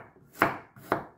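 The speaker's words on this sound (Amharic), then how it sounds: "ስንከትፍ ደግሞ በስሱ ነው የምንከትፈው" Turmeric root being sliced thinly with a knife on a board: two crisp chops about half a second apart, close and fairly quiet.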